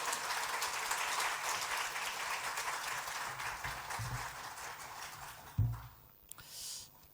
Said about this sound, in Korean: 우리 박수 치면서 우리 하나님께 영광 올려드리며 맞이하면 감사하겠습니다